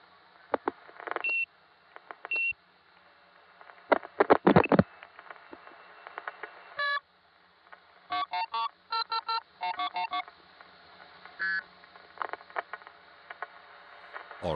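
Telephone dialing tones on a 1970s New York 914-area phone line: clusters of short, clean tone bursts in quick runs, separated by quiet gaps and scattered clicks, close and fairly clear.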